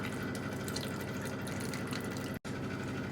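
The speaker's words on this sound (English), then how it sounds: "In goes the tamarind." Tamarind liquid is poured into a pot of chole, a steady wet splashing and trickling that runs continuously for about three seconds with a brief break near the end.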